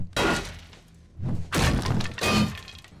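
A door being broken down in a survival video game: three heavy, crashing blows spaced about a second apart, each a loud splintering thud with some cracking, the last two close together.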